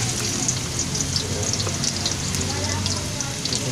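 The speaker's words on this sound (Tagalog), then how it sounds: "mainit na yung ating mantika. Lagyan na natin yung luya." Ginger drops into hot cooking oil and sizzles steadily up close, a dense crackling fry with small pops and spatters throughout.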